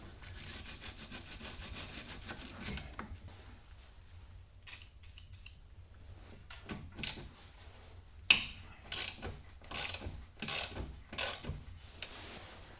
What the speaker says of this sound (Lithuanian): Dabar atsisuksiu kitoj pusėje tą traukutę.